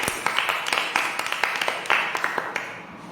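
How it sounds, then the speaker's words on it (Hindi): A prayer meeting congregation claps to welcome God, with sharp, quick claps in a steady rhythm that run for a few seconds at moderate loudness. "हम जोरदार तालियों से परमेश्वर का स्वागत करते हैं"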